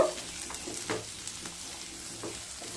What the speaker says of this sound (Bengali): আলুগুলো যখন ফিফটি পার্সেন্ট ভাজা হয়ে যাবে সেই সময় দিয়ে দেবো কেটে রাখা দুটো বড় সাইজের পেঁয়াজ পেঁয়াজ দিয়ে একটু মিশিয়ে নেব